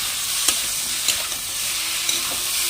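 Ingredients being lightly fried in a pan give a continuous bright sizzle, with occasional light utensil taps and scrapes cutting through, close by and with no voices.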